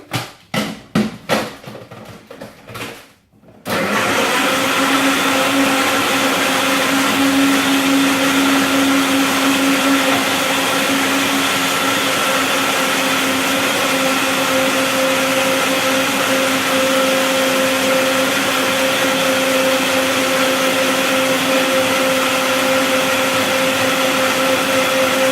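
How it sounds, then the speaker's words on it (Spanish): A blender runs for about twenty seconds, blending fresh coconut water with yogurt, its loud steady motor whir constant and close. A few brief clatters come before it starts. "Y ahora sí, vamos a batir."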